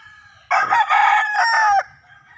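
A single rooster crows loudly and close by, one long drawn-out call lasting over a second against a quiet background.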